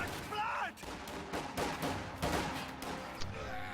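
Video game battle gunfire as grenadiers engage riflemen, with repeated sharp shots and bursts spread through the clip over dense background combat noise, and voices in the mix.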